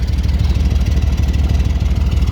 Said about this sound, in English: this sound that you hear is from the exhaust